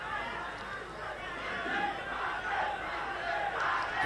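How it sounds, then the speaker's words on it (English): Crowd at a one-day international cricket match between Nepal and UAE, a broad roar of cheering and chatter swelling through the stadium, with commentary faintly under it. "The crowd is wanting some big hits from Gulshan, and he goes for it"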